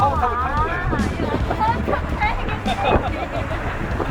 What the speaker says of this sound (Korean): 바람 소리 들리나요, 여러분?